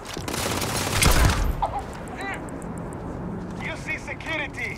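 Rapid bursts of gunfire in the video game Starfield, loud at first and then trailing into scattered sci-fi blips, with voices talking over the shots.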